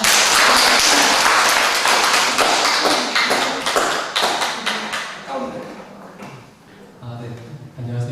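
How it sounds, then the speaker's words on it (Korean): A church congregation applauds at a Sunday service, with loud, dense clapping over the first few seconds that thins and fades toward the end, and speech rising underneath. "전도하도록 우리 은주 씨가 앞으로 좋은 사무실도 가져주시고 박수 한번"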